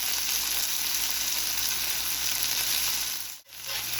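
Creamy garlic parmesan sauce for chicken pasta sizzles steadily on a Steelmade USA flat top griddle as it is whisked, a loud, continuous hiss that dips briefly near the end.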